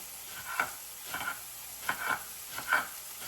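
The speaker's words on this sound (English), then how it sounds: "Don't want to burn the onions, but we do want to cook the onions and the garlic together." Onions and garlic sizzle in a pan for homemade chicken chow mein, a soft steady frying hiss broken by about five distinct scrapes of a spoon stirring them, close and moderately loud, with no one talking.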